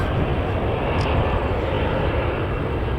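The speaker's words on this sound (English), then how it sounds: "We've got a KLM Boeing 737-800 which has just arrived from Amsterdam" A KLM Boeing 737-800 arrives at Manchester Airport from Amsterdam, giving a soft, even aircraft rumble at middling distance that stays level throughout, with no voices.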